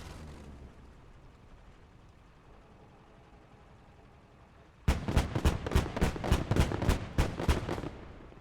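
Tank main cannon and machine gun fire in the Gates of Hell World War II game, heard as a rapid series of about a dozen loud, evenly spaced bursts that start abruptly after a stretch of low battlefield rumble.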